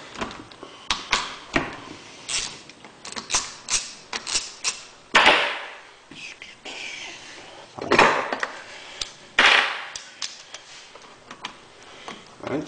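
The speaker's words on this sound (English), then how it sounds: "let's get the cam sprocket bolts out" Bolts on an engine cam sprocket are worked loose with a hand tool, giving a run of sharp metallic clicks and ratcheting taps in irregular bursts, close up and with no speech.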